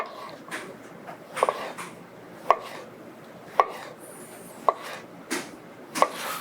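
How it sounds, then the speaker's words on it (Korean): Eggplant being sliced into rounds with a knife on a cutting board, about seven crisp separate chops at a steady, unhurried pace, close by in a quiet room. "동그랗게 썰어주면 됩니다."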